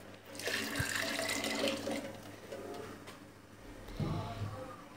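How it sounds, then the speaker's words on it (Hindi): Water pours and splashes steadily into a cooking pot for a few seconds while beef trotter stew is made, a close gushing stream that tapers off, with light clinks and background noise. "और 3 गिलास पानी मज़ीद इसमें डाल देंगे।"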